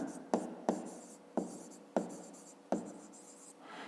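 Pen writing on paper during a fifth-grade maths exercise, heard as five or six quick scratchy strokes spaced under a second apart, close and fairly quiet, with no talking.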